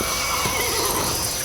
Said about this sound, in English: Have Tomas ready, my horse.